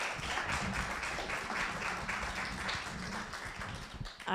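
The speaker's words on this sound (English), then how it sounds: "Give her another round of applause." Audience applause for a storyteller at the Hampton Storytelling Festival, a steady spread of clapping from a crowd lasting several seconds before a sharp sound at the very end.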